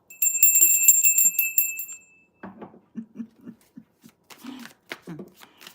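A hand bell rings briefly in a rapid series of bright metallic strikes, then stops as a person talks quietly.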